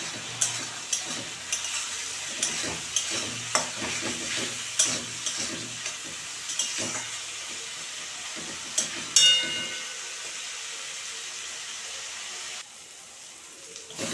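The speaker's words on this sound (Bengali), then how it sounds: "আমি 5 থেকে 6 মিনিট মশলাটা কষিয়েছি সব দিয়ে।" Bengali spice masala with tomato fried and stirred in a pan for a silver carp curry, rhythmic spatula scrapes over a crackling sizzle that fades to a quieter steady hiss.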